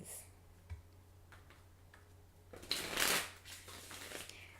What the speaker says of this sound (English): I'm going to give these cards a shuffle under the table.